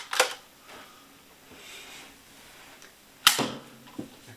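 A Nerf gun launching a foam dart, heard as a sharp, loud pop near the start and another sharp snap around three seconds later, with a softer click afterward, fairly close with no talking.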